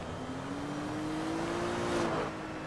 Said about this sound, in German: Jetzt fahren die ganzen Autos weg